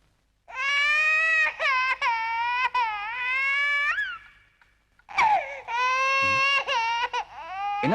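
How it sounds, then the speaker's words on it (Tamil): An infant cries loudly and close by in sustained wailing bursts, breaking briefly before starting again in a second long, strained cry, with no other voices over it. "ஏன் குழந்தை அழுகுது?"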